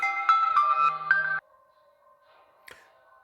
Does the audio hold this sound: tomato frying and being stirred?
no